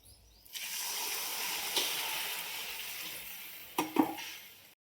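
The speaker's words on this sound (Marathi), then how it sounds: "भाजीला फोडणी देऊन घेते" Vegetable tempering sizzles steadily in hot oil on a gas stove for several seconds, with a couple of brief clinks of utensils near the end before it cuts off.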